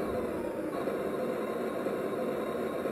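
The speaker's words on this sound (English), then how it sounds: "If you want to start the engine sound, just push the joystick on the left hand side right up and then right down to the bottom." Class 66 locomotive diesel engine sound played from a radio-control model sound unit, a steady low droning rumble held at an even level throughout with no breaks, heard alone without any talking over it.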